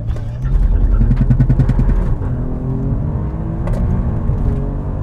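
An Alfa Romeo Giulia Quadrifoglio with a twin-turbo V6 launches without launch control, its engine revving hard in a rough pulsing burst, then settling into a steady rumbling pull, close and loud.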